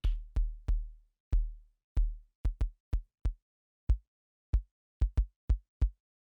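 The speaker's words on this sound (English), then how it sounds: "We'll start with the kick drum." Modded Korg KPR-77 drum machine kick drum plays a beat of about fifteen deep, booming thumps, each with a sharp click attack and quick decay, spaced in an uneven pattern and heard alone without talk.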